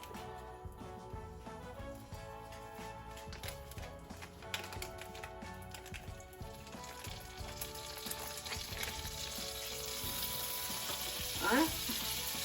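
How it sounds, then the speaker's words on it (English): Butter melts and sizzles in a hot pan while cookies are being made, giving a continuous close crackling hiss with scattered pops and some light clinks, growing slightly louder toward the end. "Let's go ahead and get this butter in there."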